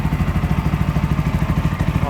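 A TVS Apache 200 4V BS VI motorcycle engine runs close by with a steady, loud, pulsing idle thump that holds an even rhythm throughout.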